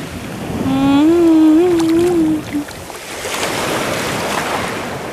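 Sea waves on an autumn beach: a steady wash of surf and wind noise under a loud, wavering tone that fades halfway through, after which the hiss of the water continues alone.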